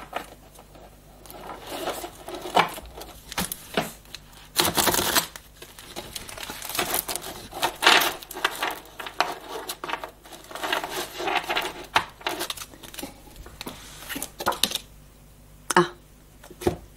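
Tarot cards are laid down and covered on a table in a run of soft slaps, shuffles and crinkly rustles, close up and fairly quiet, with no talking.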